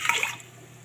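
A short splash of water is poured into a khichdi pot, a brief bright gush that quickly fades into a quiet trickle.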